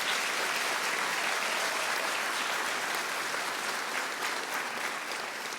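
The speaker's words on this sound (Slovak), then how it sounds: "Tak, spoločný potlesk." Audience at the Zlatý Amos teacher award ceremony applauding steadily, a dense, sustained wash of clapping that holds at an even level throughout with no voices over it.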